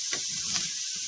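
Sausage chunks sizzle in a hot pan while a roux is made for homestyle sausage gravy, a brief steady frying hiss with a couple of soft stirring scrapes.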